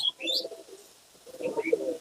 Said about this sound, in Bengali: এটা মাদা পায়রা এটা নট পায়রা